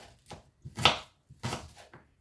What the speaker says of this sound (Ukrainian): Нарізаю полукільцями цибульку.